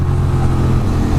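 A sport motorcycle revs hard on a Manhattan street, its engine a loud, close, continuous roar with no talk over it.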